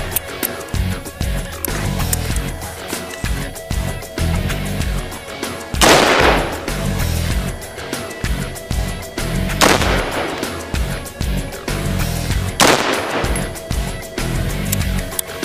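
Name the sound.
Colt M4A1 rifle firing on full automatic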